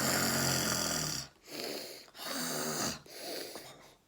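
A human voice imitates an old man snoring, with long raspy drawn-out snores separated by brief pauses, fairly close and alone.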